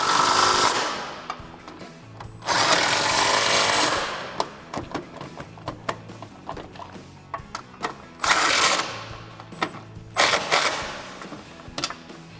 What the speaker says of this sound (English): I'm going to take my 3/8 electric impact gun and tighten these up.